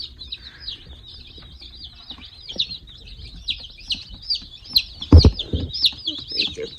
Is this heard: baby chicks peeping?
yes